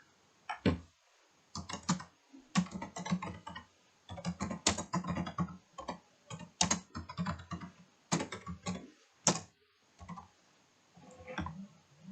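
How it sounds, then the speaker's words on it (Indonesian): Keys on a computer keyboard clatter in irregular bursts as someone types in Microsoft Word, close and fairly quiet, with short pauses between runs of keystrokes. "Selanjutnya kita akan mencoba mengetik"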